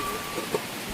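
Steady rain pours down in a brief, even wash of noise with no other clear sounds, heard during an outdoor fish-cooking session.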